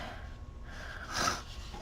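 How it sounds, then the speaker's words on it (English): A short nasal sniffle rises briefly near the middle, a quick wet intake of breath through the nose against quiet background. "I'm sorry for the sniffling"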